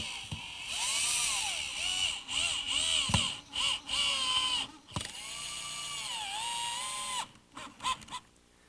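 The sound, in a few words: drilling pilot holes in oak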